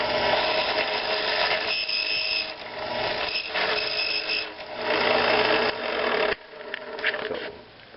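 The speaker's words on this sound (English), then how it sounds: "This is a 177 drill bit." A .177 drill bit in a power drill boring shallowly into a lead pellet mold, whining steadily at close range, with brief dips and a drop in pitch near the end.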